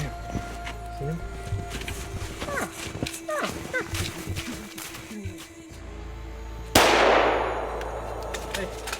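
A rifle shot fired at an elk during a Michigan hunt cracks loudly once near the end, its blast decaying into a long rumbling tail after quieter moments with people talking in the field.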